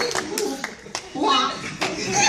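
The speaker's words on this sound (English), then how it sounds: "The delight of the crowd is heard." An audience at an Anime Los Angeles 2014 live radio-drama reading claps in scattered bursts, mixed with chuckles and voices.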